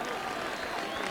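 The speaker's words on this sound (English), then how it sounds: "Just listen to that cheer." A big stadium crowd cheers and roars in a steady, dense wash at a 1995 Armagh v Derry Ulster Gaelic football quarter-final, with no single voice standing out.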